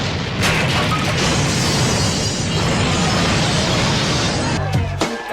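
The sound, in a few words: house exploding in the film The People Under The Stairs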